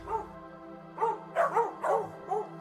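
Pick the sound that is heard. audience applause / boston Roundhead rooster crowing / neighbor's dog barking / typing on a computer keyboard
neighbor's dog barking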